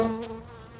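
Honeybees buzz in a dense, steady drone from a colony under a shed floor, close and loud, fading slightly over a brief moment.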